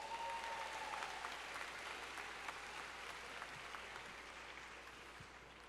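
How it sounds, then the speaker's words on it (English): A college commencement ceremony crowd applauds steadily, with many hands clapping at once. The sustained clapping slowly fades a little toward the end. "Give yourself a round of applause."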